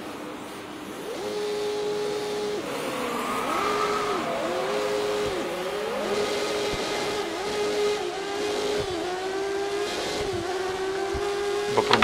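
A Williams Formula 1 race car laps the Hungarian Grand Prix circuit in a video game. Its high-pitched engine is loud and constant, rising and falling with repeated upshifts and downshifts through corners, with no talking.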